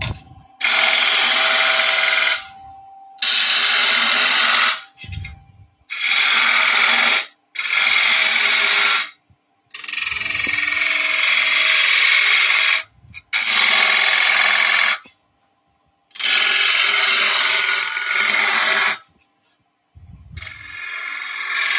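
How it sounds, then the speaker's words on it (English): A quarter-inch bowl gouge cuts wood on a lathe in repeated bursts of loud, harsh scraping, each lasting a second or several, broken by short silent pauses. "I'm going to go with a little quarter inch bowl gouge."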